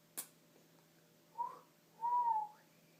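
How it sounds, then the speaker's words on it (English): A pet cockatiel and a person trade whistles: a short whistled note near the start of the pair, then a longer, sustained tonal whistle answering, both fairly clear and close over a quiet room with a sharp click at the outset. "Whistle back at her."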